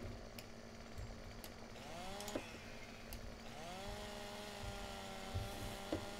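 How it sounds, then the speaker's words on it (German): Chainsaw cutting wood in the farming game Landwirtschafts Simulator 2015, a steady buzzing engine drone with rising and falling revving pitch sweeps throughout, fairly close and continuous with no talk over it. "Es ist nicht so einfach hier zu sägen."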